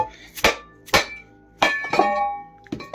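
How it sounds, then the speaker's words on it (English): Several sharp taps from a plastic hammer knocking the lip off a metal wheel during repair, close and ringing, with uneven spacing and a bright metallic resonance after each strike. "Just a couple of little taps, just a plastic hammer."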